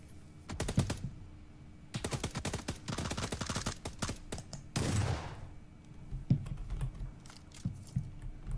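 Rapid bursts of automatic gunfire in PUBG, several crackling volleys in quick succession with short pauses between, moderately loud and close.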